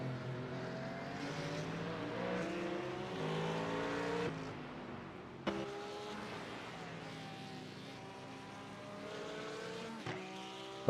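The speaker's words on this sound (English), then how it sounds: "Halfway through a stint and still spinning the tires like that." Tires spin and squeal on a GT3 race car in the iRacing simulator at the Nurburgring, with a sustained revving engine tone that rises and falls through gear changes and a sharp knock near the end.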